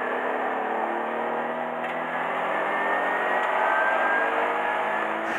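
A car corners through the Advan corner on a race track, its engine holding a steady, loud drone with only slight shifts in pitch, and no talking over it.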